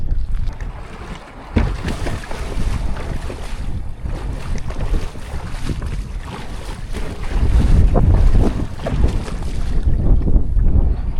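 Strong, steady wind roars and buffets the microphone on a cold day at a creek inlet in the Labrador wilderness, with rough water and whitecaps nearby. The gusts swell louder toward the end, and no one speaks.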